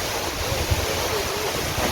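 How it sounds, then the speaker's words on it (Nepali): Wind blowing near a waterfall in Martham, Sikkim, a steady roaring rush of air and falling water with wind buffeting the microphone, faint voices underneath. "यहाँ हावा चलेको हेर्नु हावा चलेको"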